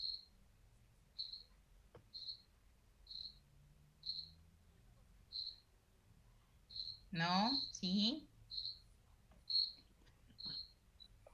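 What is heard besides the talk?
cricket chirping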